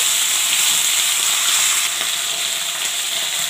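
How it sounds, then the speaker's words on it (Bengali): Potatoes, beans, cauliflower and eggplant frying in hot oil in a home kitchen pan, a loud continuous close sizzle with faint crackles and occasional stirring, no voices. "আলু, বিনস এগুলো ভাজছি"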